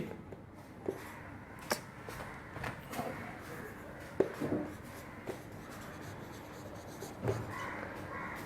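A teacher writes words during a class, with soft scratchy strokes and occasional taps sounding close over a low room hum.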